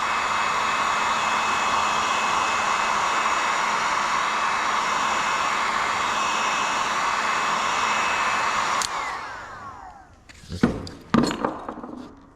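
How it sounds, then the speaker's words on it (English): A new heat gun blowing hot air during a Z31 300ZX brake kit job, a steady loud whooshing roar that cuts off abruptly, followed by a few clinks and light knocks of tools. "This is a new heat gun."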